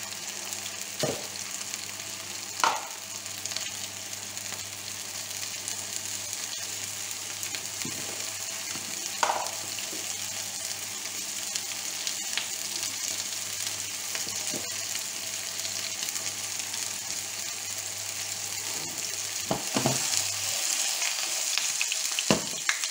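Cod fillets fry steadily in a pan with a constant close sizzle, punctuated by a few light clinks and scrapes of a utensil, with no talking.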